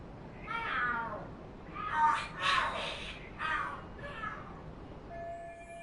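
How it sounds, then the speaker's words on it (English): Cats fighting in the video game Lost Judgment, a run of rising and falling yowls and screams over about five seconds, moderately loud against a quiet hiss. "The hell? Are there cats fighting?"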